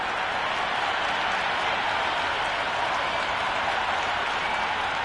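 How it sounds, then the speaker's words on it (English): A stadium crowd in the Cricket 26 video game roars with a dense, steady wash of cheering and clapping at a T20 match, unbroken throughout with no talk on top. "this crowd is already making it hard for me to be heard"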